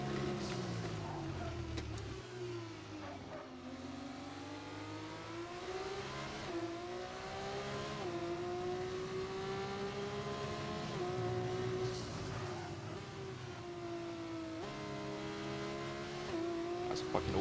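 Formula 2 race car engine in a racing video game at round 4 in Austria, a steady high-pitched whine rising and dropping through gear shifts, continuous and close throughout.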